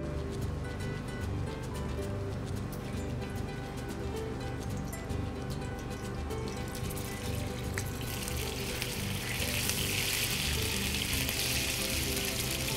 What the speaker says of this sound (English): Now that I have the polenta cut, I'm going to grill it on a flat top.